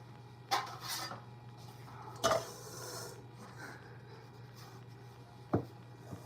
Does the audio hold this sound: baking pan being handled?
yes